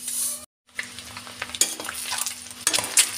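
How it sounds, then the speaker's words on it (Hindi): Masala spices sizzle and fry in a hot pan for egg curry, with occasional scraping and stirring clinks, close and steady after a brief silence. "मसाला भुजा रहा है"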